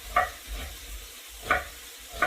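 Bacon frying in a pan as the start of a clam chowder, a soft steady sizzle with a few brighter crackling pops and stirring scrapes recurring at intervals, close and fairly quiet.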